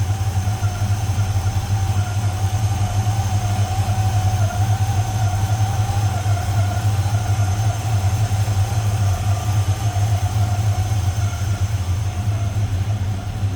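A 1972 Chevrolet C10 pickup idling with an MSD ignition setup, a steady, loud, low rumbling drone that holds even and unbroken throughout, close by with no talking.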